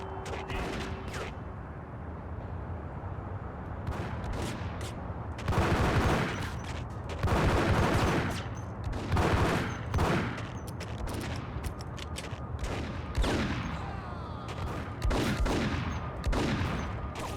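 Repeated gunfire in the 2001 PC shooter Max Payne, bursts of shots cracking out in irregular clusters over a steady game background, loud and close, with no talk.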